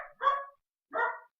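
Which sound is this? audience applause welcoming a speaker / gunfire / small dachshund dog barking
small dachshund dog barking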